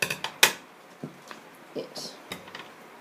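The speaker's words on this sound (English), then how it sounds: "you're going to grab the scissors and then you're going to cut" Scissors snipping through folded paper, a few sharp close clicks and crisp cuts spaced irregularly, with faint rustling between them and no talk.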